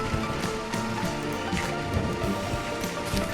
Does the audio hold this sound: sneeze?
no